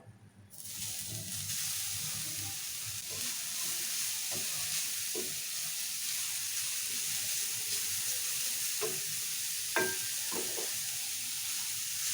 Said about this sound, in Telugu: క్యారెట్ కూడా బాగా ఫ్రై చేసుకోవాలి మంచిగా నెయ్యిలో మగ్గి క్యారెట్ మంచిగా ఉడికిపోవాలి